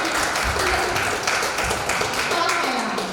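An audience at a motivational seminar claps steadily as a doctor is welcomed, a dense, continuous patter of many hands at moderate loudness with faint background murmur.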